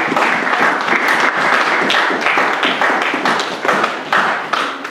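A church congregation applauds loudly and steadily with dense, continuous clapping, close and full over the whole stretch, with a few heavier thumps and no clear speech.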